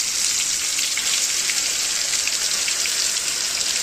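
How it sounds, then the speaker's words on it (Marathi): Onion and garlic paste with curry leaves sautéing in a pan for a homemade veg dum biryani, a steady, dense sizzle and crackle close up that runs evenly throughout with no talking. "कांदा लसूण पेस्ट मस्तपैकी परतून घ्यायची आता आपल्याला."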